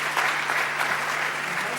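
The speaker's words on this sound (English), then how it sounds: "So go ahead and give yourself a round of applause there" An audience at a conference lightning-talks session applauds, giving a short burst of dense, even clapping heard up close.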